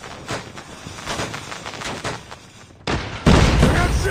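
Gunfire in the Call of Duty Mobile video game: rapid bursts of shots rattle close and loud, then heavier blasts crash in near the end.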